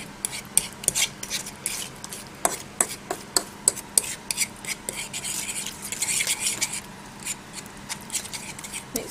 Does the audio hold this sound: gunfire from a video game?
no